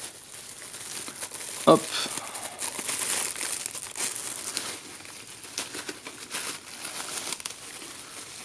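A travel notebook package, a Midori-style leather journal, is unwrapped close by. Steady crinkling and rustling of packaging runs throughout, with one sharper snap and a brief spoken word near the start.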